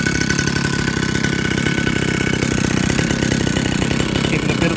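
Xcub 60 cc engine idling, a loud, steady, close-up mechanical putter with a fast, even firing rhythm and no voices over it.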